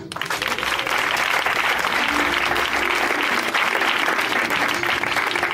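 A church congregation breaks into loud, sustained applause acclaiming the Lord, with dense clapping that swells quickly and carries on evenly with no pauses.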